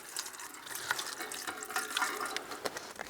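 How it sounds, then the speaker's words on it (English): Water poured from a bottle into a cooking pot fitted with a trivet, heard as a steady close trickle and splash with small bright droplet accents, no talking. "I'm going to put some water in."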